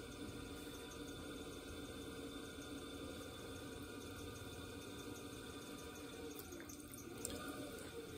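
Water runs and splashes steadily as clay is wetted on a spinning pottery wheel, a faint, continuous trickle over a low motor hum with no voices.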